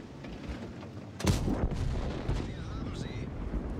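Tank cannon shot from an IS-3 in the World of Tanks video game: one sharp, loud blast near the start with a rumbling tail, set over a steady battle-noise bed.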